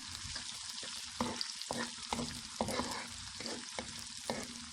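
Onions for Rajasthani chole aloo sizzle and fry in a pan, lightly browning, with repeated stirring scrapes at a steady rhythm, close and fairly quiet.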